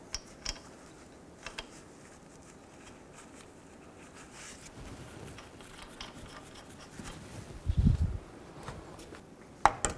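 A wrench tightens the transmission cooler line nuts under a 2000–2006 Chevy Tahoe, with quiet scattered ratcheting and rubbing clicks, then a firmer cluster of mechanical clanks and a sharp tap near the end.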